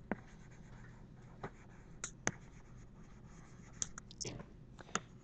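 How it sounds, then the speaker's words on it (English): Pen or pencil writing by hand during a statistics lesson, with light continuous scratching broken by sharp taps and strokes, close up and quiet, and faint talk now and then. "let me write it out."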